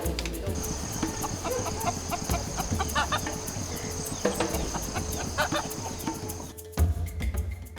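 Chickens cluck steadily at close range in a rural Mangyan mountain area of the Philippines, with insects buzzing behind them and a dense, continuous bed of bird calls throughout.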